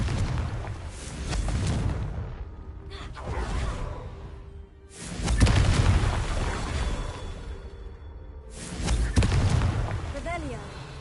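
Fiery Confringo spell blasts from the video game Hogwarts Legacy, three loud booming explosions a few seconds apart, each with a crackling, rumbling tail over a steady game soundscape.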